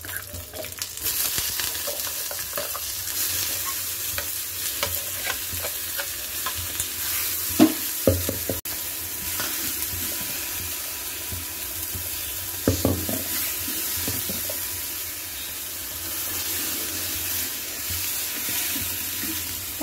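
Ground onion paste for spicy chutney frying and sizzling in a pan, with occasional stirring clatters and scraping throughout, no talking.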